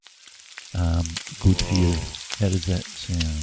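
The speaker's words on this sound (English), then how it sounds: "It's the sound of eggs frying in the pan." Eggs frying in a pan give a steady crackling sizzle that runs beneath a voice, which keeps talking close and loud over the whole stretch.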